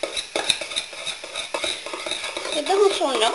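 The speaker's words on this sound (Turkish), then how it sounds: "İyice çırpıyoruz." A spoon or whisk beats whipped cream into a semolina milk dessert with quick, steady clinking and scraping strokes that pick up toward the end.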